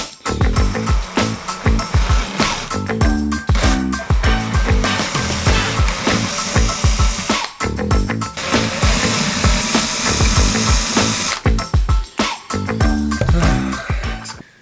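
A power drill bores into the casing of a President McKinley CB radio: a loud, close, whining motor runs in long bursts, broken by brief pauses.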